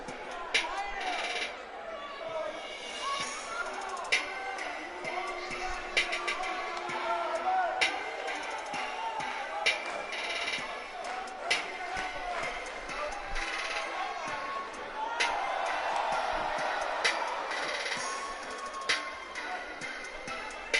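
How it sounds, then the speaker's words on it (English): Wrestling arena crowd in Providence awaiting the first-round match of a cruiserweight championship tournament, a steady hubbub of distant chatter and murmuring that swells slightly near the end, with scattered claps and whoops. "And this Providence crowd ready to get underway."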